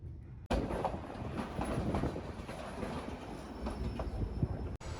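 White Pass Railway train climbing a mountain, heard from aboard a car: steady rumbling wheel noise with rhythmic clicking of rail joints, close and continuous, with a brief cut near the start and end.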